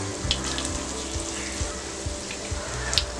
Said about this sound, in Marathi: व्यवस्थित सॉटे करून घेऊया।